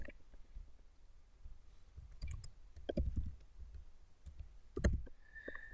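Someone types on a computer keyboard nearby, giving soft irregular key clicks in short bursts, with a few louder taps against a quiet room.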